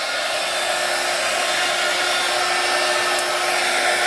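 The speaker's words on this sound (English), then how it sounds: "I'm very curious if you can hear the heat tool, if it's drowning out my voice." A heat gun blows continuously at close range while warming embossing powder for card making, a loud steady whooshing hum with no breaks and no talking.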